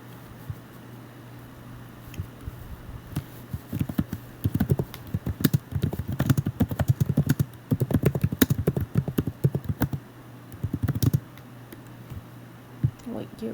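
Someone types on a computer keyboard, a quick run of irregular, near, crisp key clicks in bursts over a low steady hum, with a pause between bursts.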